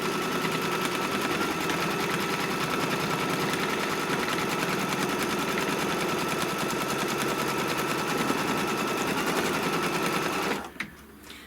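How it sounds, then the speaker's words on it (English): An embroidery machine stitches the applique placement line for a snowman's face, making a steady, rapid mechanical chatter that runs loud and unbroken for about ten seconds before stopping abruptly. "what it's going to stitch next is the placement line for the snowman's face"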